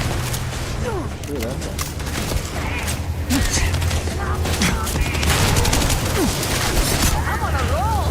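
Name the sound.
gunfire from enemies in the video game Starfield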